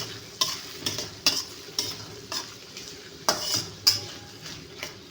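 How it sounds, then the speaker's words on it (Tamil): Food frying in oil, a steady sizzle with repeated sharp metal clinks of a utensil stirring against the pan, close and fairly loud, no talking. "எண்ணெயிலே நல்லா வேவிட்டுங்க."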